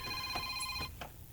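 A cellphone rings with a bright electronic trill, a couple of quick bursts that stop abruptly, fairly close against a quiet background.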